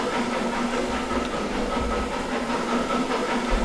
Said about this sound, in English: Take her up to full steam in a minute.